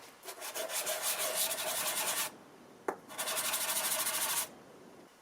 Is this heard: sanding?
yes